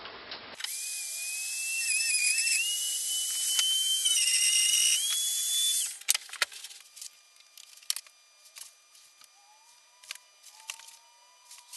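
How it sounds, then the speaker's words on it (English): A Dremel rotary tool cuts on a guitar fretboard with a shrill, close whine that wavers in pitch for about six seconds, followed by scattered clicks and light handling noises. "I think the easiest way to cut these off will be with a Dremel"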